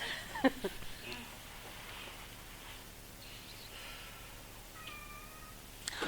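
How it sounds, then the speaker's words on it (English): A cat meowing a few times, faint and somewhat distant, short rising cries scattered over quiet room noise with light rustling and clicks. "Oh my God, there's a new cat."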